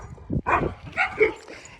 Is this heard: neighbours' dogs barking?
yes